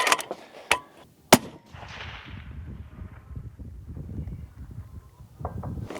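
A western rifle fires at a steel target: two sharp, loud cracks close together, the second followed by a brief metallic ring, then quiet rumbling wind noise.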